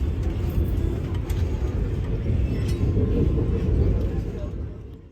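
Vande Bharat Express running between Tirupati and Secunderabad, heard from inside the coach as a steady, loud, low rumble with faint clicks, slowly swelling and then easing near the end.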